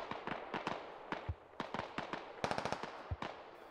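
Bursts of gunfire in the military shooter game Squad, rapid sharp cracks in short volleys and scattered single shots, fairly close and alone with no talk.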